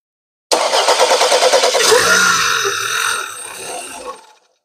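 An Audi A5 TFSI engine cranks with a rapid rhythmic chugging, catches and revs up loudly nearby, then settles briefly before cutting out and fading to silence.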